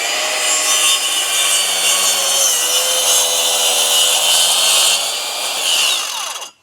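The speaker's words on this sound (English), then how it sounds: "I'll cut it on top of the other joist" Power saw cutting a wooden stair stringer for a deck, a loud, close, continuous high whining cut lasting several seconds before stopping abruptly, with no talk.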